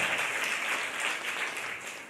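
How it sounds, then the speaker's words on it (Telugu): A gospel music event audience applauding, a steady dense wash of clapping that holds at an even level throughout without talk. "फिर जोर से ताली बजाइए प्रभु यीशु मसीह के लिए"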